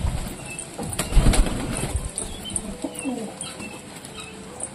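Pigeons close to the microphone beat their wings in a loud burst near the start and then coo softly, with rustling and flutters continuing nearby.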